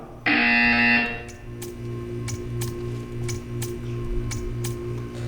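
A loud, harsh buzzer in Portal 2 sounds for about a second, followed by a quieter electronic hum with regular soft ticking.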